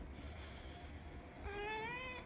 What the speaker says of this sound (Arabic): هي جات القطة